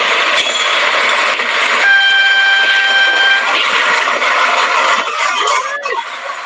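A train passes with its horn sounding, played as a quiz sound: a loud rumble of rolling wagons with a clear horn blast in the middle, then fading at the end.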